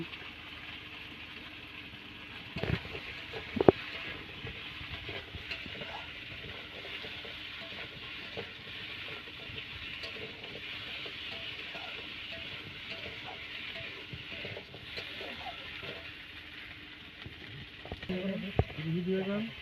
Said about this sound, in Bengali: তেলের মধ্যে দিয়ে দিচ্ছি এর ভিতরে দিয়ে দিচ্ছি বেটে রাখা কচু